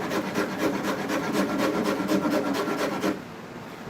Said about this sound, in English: I'm guiding my rasp